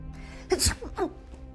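A single sharp sneeze, a quick intake followed by a burst, close and brief, with faint room tone around it.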